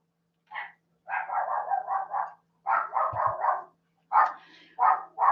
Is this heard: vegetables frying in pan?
no